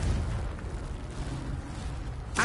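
Confringo fire spell blasting in Hogwarts Legacy, a steady low rumbling roar held through the whole stretch, ending in a sharper burst of crackle.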